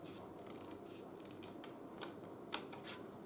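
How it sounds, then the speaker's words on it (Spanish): Scissors snipping through paper for a scrapbooking structure, a series of faint close crisp cuts at an uneven pace over quiet room tone. "Y ahora seguimos cortando por aquí para retirar la pieza del centro."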